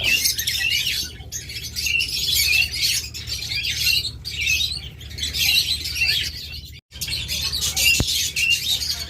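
A pair of black mask lovebirds chirps close by in a busy run of high, shrill squawks and tweets with brief pauses, over a low background rumble.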